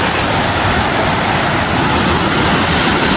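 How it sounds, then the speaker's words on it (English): Allison Falls in the Crowsnest Pass area roars as a dense, steady wash of falling water, loud and close, filling the whole moment without any talking. "Look at these waterfalls."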